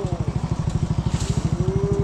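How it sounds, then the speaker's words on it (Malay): A motorcycle engine runs nearby with a fast, even chugging pulse, loud and steady, its pitch rising slightly as it revs. "naik motor aja weh hari ni"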